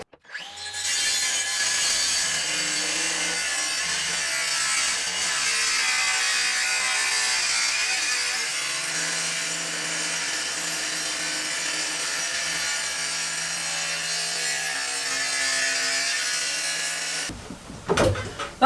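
Side pieces of wood for a compost toilet being cut with a saw, a steady, close, continuous rasping buzz that runs for about seventeen seconds before stopping, followed by a brief knock.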